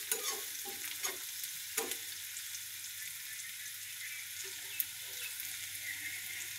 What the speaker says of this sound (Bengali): এখন দিয়ে দেব এই যে সুরি শুটকিগুলা দিয়ে তেলের মধ্যে পেঁয়াজ সহ একসাথে নাড়বো